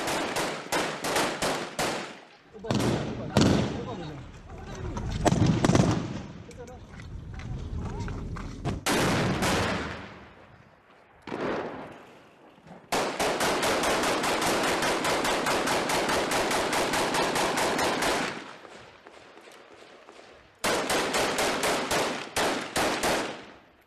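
Kurdish fighters and IS gunmen trade gunfire in the city of Raqqa, Syria, with loud, repeated bursts of automatic fire and heavy shots separated by short lulls, and a voice talking in places.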